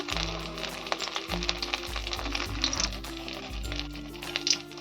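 Soybean balls frying in hot oil in a home kitchen, giving a steady close sizzle with crackling bursts throughout, alone without talk.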